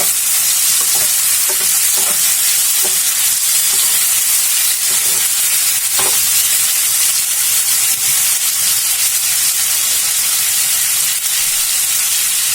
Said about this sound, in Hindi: इसे भी हम थोड़ा भून लेंगे